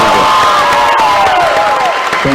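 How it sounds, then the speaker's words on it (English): Basketball crowd for St. John's Tipton cheering after a Class 1A Division 2 sub-state championship win, a steady loud roar of voices and whoops in an indoor gym throughout. "St. John's Tipton crowd, hopefully you can hear that cheering their team on"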